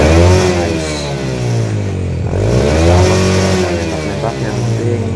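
A Yamaha Jupiter Z motorcycle with a fault that makes it cough when the throttle is released revs its engine through the exhaust, loud and close, the pitch rising and falling over several rev swells while someone talks over it.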